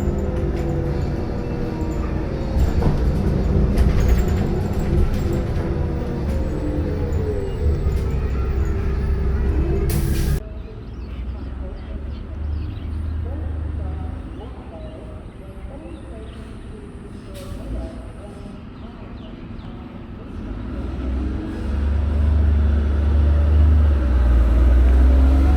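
A Red Bus Services BCI Citirider bus rumbles along with steady low engine drone and road noise, easing quieter midway before the engine swells again, recorded from on board.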